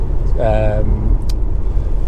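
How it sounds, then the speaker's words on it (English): A Honda Accord 2.4 i-VTEC EX saloon engine idles with a smooth, steady low hum, heard close beneath a brief voice. "Starts absolutely instantaneously, settles completely smooth, even idle, and pulls perfectly through the entire rev range of the car"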